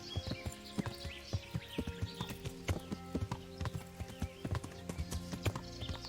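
Horse hooves clip-clop in Kingdom Come: Deliverance, a brisk, regular run of close hoofbeats with a brief whinny, faint birdsong and ambient game sounds underneath.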